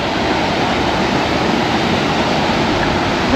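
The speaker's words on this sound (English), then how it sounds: "first waterfall of Cape York" A low-flow waterfall in Cape York, Australia, gives a steady, loud, broadband rush of falling water that stays even throughout, with no voices.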